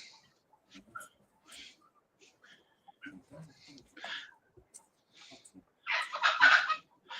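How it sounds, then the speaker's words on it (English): Chickens and turkeys cluck and gobble in the background under a voice talking, with a louder burst of fowl calls near the end. "Excuse the chickens and the turkeys you hear in the background."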